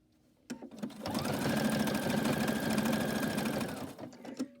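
A sewing machine runs in one steady, close burst, stitching binding down on a lap quilt. It whirs continuously for about three seconds, with a few soft clicks before and after.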